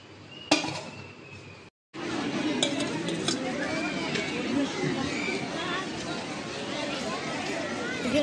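Chicken biryani is stirred in a cooking pot with a metal spoon, scraping and clinking close by, with a brief sharp clank and a short pause, while a voice speaks over it.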